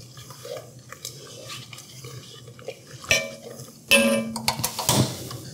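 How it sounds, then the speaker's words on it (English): Beer being stirred into roux in a Staub cast iron Dutch oven, with soft scraping and clinks of the utensil against the pot, growing louder and busier toward the end, no talking. "we're just gonna stir and stir and stir and stir until this liquid is combined and all that roux is incorporated"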